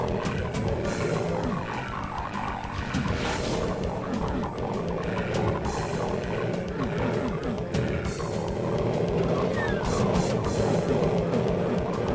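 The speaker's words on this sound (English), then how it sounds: "I hear an army of demons somewhere." Demons roar in the Cultic demo, a retro first-person shooter, as a continuous layered growling din runs throughout, with guttural roars swelling over a rumbling background.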